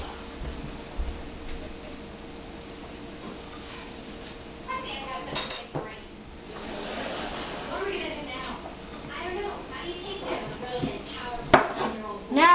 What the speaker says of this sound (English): Now you cut the banana pieces